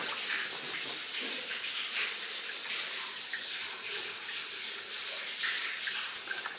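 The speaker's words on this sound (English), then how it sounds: "Listen to the water going down." Water trickling and splashing down a deep old mine shaft in slippery shale ground, a steady hollow rushing wash heard from the edge, with no talking.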